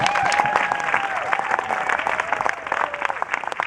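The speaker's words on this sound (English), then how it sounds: "how about a nice round of applause for Mr." Concert audience applauding steadily for a bassist after a Hawaiian music performance, dense clapping throughout with a faint sustained musical tone underneath.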